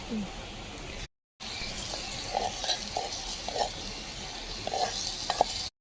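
Kids stirring veg biryani in a mud pot over a fire, a continuous scraping stir with soft sizzling and periodic clunks of the spoon against the pot, close by, with children's voices around.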